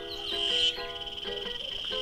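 A cicada sings outdoors among large stones, a steady high buzzing trill with tonal warbling notes running throughout, fairly close and continuous, with no talking.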